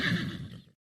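A horse gives a single short, loud whinny up close, lasting under a second and cutting off abruptly into silence.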